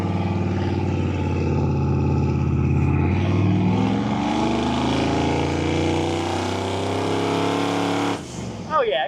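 A Chevrolet C10 pickup fitted with a new Holley EFI system drives under boost, its engine note loud and steady, rising in pitch through acceleration before easing off near the end, with speech over it.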